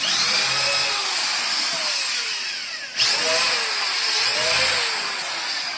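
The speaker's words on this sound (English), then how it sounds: "we're going to pre-drill a small starter hole so we don't split the wood" A power drill whines loudly up close, its pitch rising and falling as it pre-drills small starter holes in wood for a chicken coop, with a brief break midway before it resumes.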